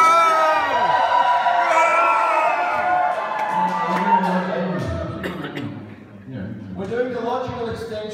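A small audience at a wrestling slam event in a warehouse venue cheers, whoops and shouts loudly and continuously, with children's voices among them, trying to sound like a much larger crowd.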